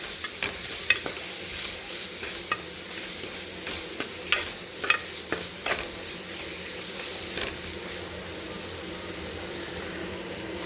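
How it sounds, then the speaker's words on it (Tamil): Masala with coriander powder and garam masala is stirred in a frying pan for a tripe and chana dal kootu, with a soft sizzle under irregular spatula scrapes and taps. "நம்ம ஒன்றோட ஒன்று கிளறி விட்டுக்கலாம் மசாலாவை"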